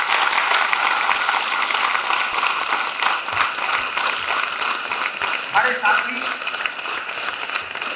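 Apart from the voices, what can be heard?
audience applause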